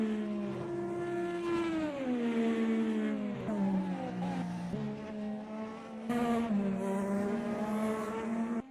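An IndyCar engine in the racing game Automobilista 2 whines and shifts pitch through gear changes, rising and dropping repeatedly, steady and clear with no talk.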